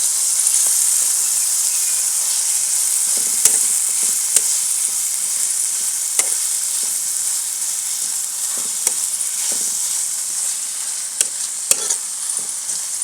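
Vegetable noodles roast in a hot pan with a steady, close sizzle and hiss throughout, broken by small clicks and taps from stirring, with no one talking.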